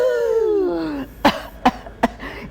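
A voice imitates the cough of whooping cough (pertussis): after a drawn-out descending vocal tone, a rapid series of four sharp, close coughing bursts follows in quick succession.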